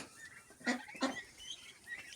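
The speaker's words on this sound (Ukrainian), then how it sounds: "ось тут у нас сидять качки" Ducks sitting in a village farmyard give two short quacking calls close together, with faint bird chatter and quiet rustling around them and no talking.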